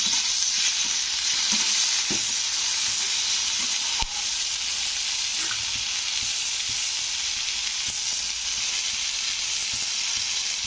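Onions and tomatoes fry in a pan for a South Indian egg curry, a steady bright sizzle running without a break, close and even, with a single faint tap partway through and no voices.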